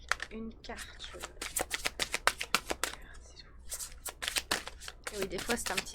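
Tarot cards are shuffled close by in rapid, crisp riffling bursts that come in irregular flurries, with soft whispered speech in between.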